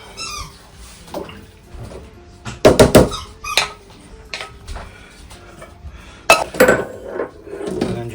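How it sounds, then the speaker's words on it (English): Raspberry coulis mixture pressed through a metal sieve gives close metallic clinks, squeaks and scrapes in short bursts, with quieter gaps between strokes and no one talking. "So now I'll put the mixture through a sieve"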